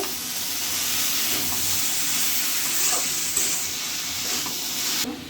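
Mustard dish cooking in a pan in a village kitchen, with steady sizzling, frying and stirring noise throughout, scraping clinks here and there, loud and close, no talk.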